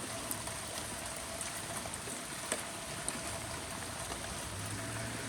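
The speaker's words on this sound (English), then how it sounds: "The water is moving out of there, so if you listen you can hear it draining out." Rainwater drains steadily out of a gutter fitted with a GutterStuff foam guard, a continuous close splashing trickle with a few brief louder drips and no talk.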